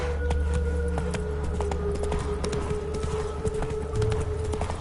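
Geralt's horse Roach in The Witcher 3 gallops with rapid, rhythmic clip-clop hoofbeats close by, over an ongoing low background hum and tone, with no one speaking.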